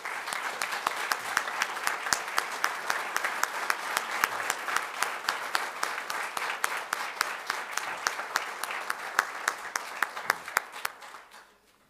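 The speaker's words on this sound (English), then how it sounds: "We'd like to give you another round of applause." A graduation audience at Dublin Christian Academy breaks into sustained applause, dense steady clapping that carries on for about twelve seconds, with a few sharp individual claps standing out before it fades near the end.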